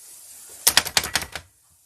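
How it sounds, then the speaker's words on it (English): Rapid run of about six sharp, crisp clicks from a tap chopper dicing an onion, close up and evenly spaced, ending abruptly into quiet. "give it a few taps, and you see how quickly that diced up the onion"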